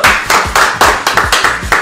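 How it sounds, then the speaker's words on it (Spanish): Rhythmic, closely spaced handclaps ring out at a lively event honoring Gerardo Villoba, roughly eight sharp, fairly loud claps in steady succession, like a small group clapping in time, with no talk over them. "¡Un aplauso para Gerardo Villoba!"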